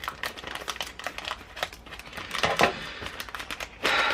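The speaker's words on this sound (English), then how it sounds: "I'm just going to grab my scissors to snip across that" Scissors snip through crinkling plastic: a run of quick close clicks and rustles, with a louder crumpling burst near the end.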